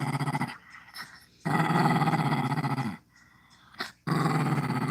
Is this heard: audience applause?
no